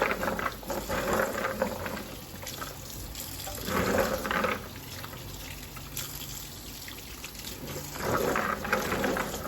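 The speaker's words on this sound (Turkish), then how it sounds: "tanelediğim tüm barbunyaları bol su altında temiz olana kadar yıkıyorum" Freshly shelled kidney beans are rinsed under plentiful running tap water, a steady close rush of water with surges and splashing as the beans are stirred and rubbed by hand.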